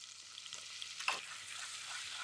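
Flour added to melted butter in a pan for gravy, giving a steady soft sizzle with a brief louder burst as it goes in, close and fairly quiet, no voices.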